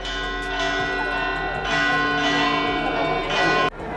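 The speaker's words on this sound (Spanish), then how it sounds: "Si hay una cosa que caracteriza a Chinchilla, son las campanas, día y noche." Church bells in Chinchilla, Albacete, Spain ring steadily and loudly, their tones sustained and overlapping, swelling in a few waves before cutting off abruptly near the end.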